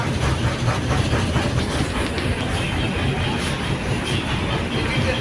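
A small half-kilometre toy train at Elephanta Caves near Mumbai runs along its track with a continuous close rumble and faint clickety-clack of wheels, heard alone without voices.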